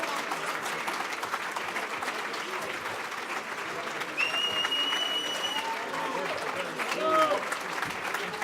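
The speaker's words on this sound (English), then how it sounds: "S'il vous plaît, une bonne main d'applaudissements." Sustained audience applause at a Château Montelena wine tasting in Montréal, honoring the chef and his kitchen brigade, a dense steady wash of clapping that swells slightly near the end, with a few faint whistles or voices rising over it.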